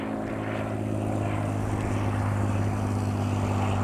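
An H-King Flybeam 2 RC plane's propeller drones steadily and loudly, a constant buzzing hum held at an even level throughout.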